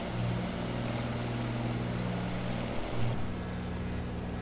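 A steady, droning aircraft engine hum from the Microsoft Flight Simulator 2024 video game during an approach to land at an airport, continuous and fairly loud with a slight shift in tone near the end.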